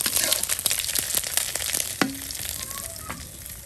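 Cumin seeds and bay leaf sizzle and crackle in hot oil as a tempering, a loud close frying hiss with sharp pops and a few stirring scrapes, no voices.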